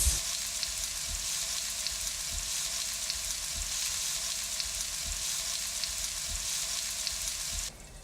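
Sweet potato hash sizzles and fries steadily in olive oil inside a covered pan, a close, continuous crackling hiss with no talking.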